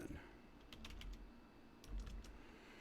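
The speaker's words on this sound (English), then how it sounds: "so let me type that in." Soft, quiet typing on a computer keyboard, two short clusters of key clicks separated by a pause, close to the microphone.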